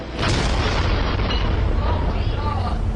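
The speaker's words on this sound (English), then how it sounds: "a huge explosion rocked the Bayer Crop Science plant in Institute, West Virginia" Huge explosion at the Bayer Crop Science chemical plant in Institute, West Virginia, at night: a loud, deep rumbling roar that holds steady for a few seconds, heavy low-end boom with no clear speech.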